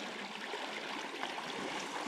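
A stream rushes loudly and continuously, a dense, even wash of running water close by.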